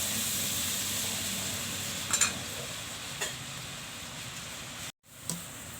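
Boondi, small droplets of batter, frying lightly in hot oil: a steady broadband sizzle that runs throughout, with a few faint clinks around the middle and a brief dropout near the end.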